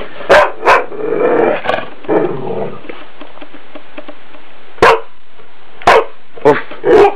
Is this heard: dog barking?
yes